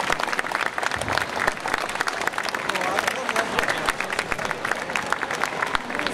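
A large crowd applauds warmly at a stage ceremony during the Chiba Prefecture Citizens' Day festival at Makuhari Messe, with dense, sustained clapping filling the hall for several seconds.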